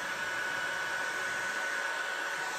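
Heat gun blowing steadily over a poured resin ocean table top, a constant close airy roar with a faint high whine and no other sounds.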